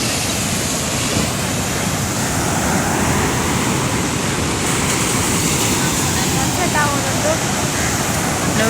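Ocean waves wash onto Tannirbavi beach in a continuous, loud surf roar with wind noise hitting the microphone, steady throughout.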